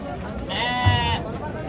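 Sheep and lambs at the Amingada sheep market, with one clear close bleat rising over crowd chatter and someone talking nearby.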